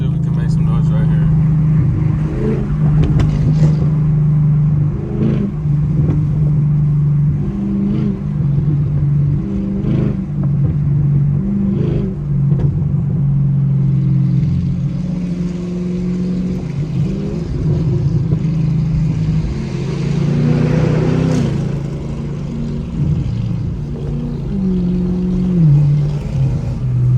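Chevrolet Camaro SS engine rumbling and revving in traffic, a steady loud low drone that climbs and falls through several rev surges over nearly half a minute, with road noise underneath.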